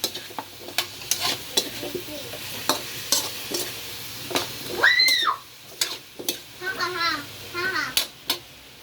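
Seasoned food stirred in a pan after ground pepper and a little salt go in: repeated close scraping strokes over a soft sizzle, with a voice chattering in the background partway through.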